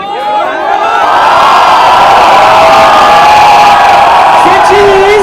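Large crowd at a promotional event for the film Fitoor, cheering and whooping loudly and continuously, rising after a moment into a sustained roar with shrill shouts on top.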